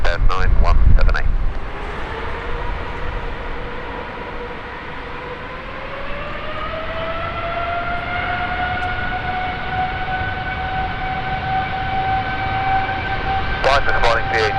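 A retiring British Airways Boeing 777, G-ZZZB, taking off from runway 27 right, heard as a steadily rising jet engine whine and roar that builds and holds, with brief radio chatter at the start and end.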